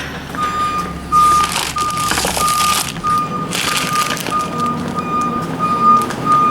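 A garbage truck reversing outdoors: a loud, steady series of evenly spaced electronic beeps over a rumbling diesel engine and hissing, clattering bursts, close by with no talk.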